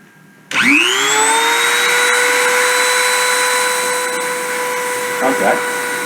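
A milling spindle spins up to 30,000 RPM before a deposition run, rising into a loud steady high-pitched whine with stacked harmonic tones that holds constant for several seconds, with a brief voice near the end.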